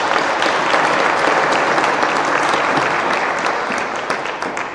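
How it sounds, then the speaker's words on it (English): Sustained applause from an audience at the dedication ceremony of the new Stockton courthouse, dense steady clapping that fills the room and begins to fade near the end. "Give yourself applause."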